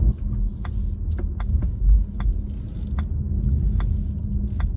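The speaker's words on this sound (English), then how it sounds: "I love that indicator sound" Steady turn signal ticking inside a 2024 Volvo EX30, evenly spaced sharp clicks over a low rumble inside the vehicle.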